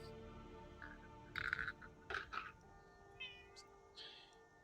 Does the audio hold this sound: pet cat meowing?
yes